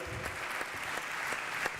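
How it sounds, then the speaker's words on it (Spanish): Applause from a seminar audience in a hall, a continuous wash of clapping at moderate distance with a few sharper individual claps standing out, lasting under two seconds. "un aplauso para ella"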